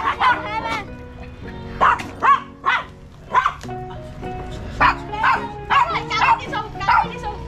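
Dog barking and yipping in repeated loud, close bursts with some whimpering, alongside a person talking.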